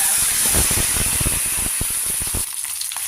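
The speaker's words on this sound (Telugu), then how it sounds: "పచ్చిమిరపకాయలు పోపు వేగింది. ఇందులో పచ్చిమిరపకాయలు ఇలా ముక్కలు చేసి వేసుకుంటే" Chopped green chilies crackle in hot tempering oil for a tomato-coconut chutney seasoned with asafoetida, a loud, close hiss threaded with rapid popping spatters that thin out near the end.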